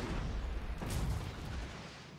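A Dwarven cannon fires in a Warhammer 4v4 multiplayer battle, a single heavy boom standing out from the constant low rumble of the fight.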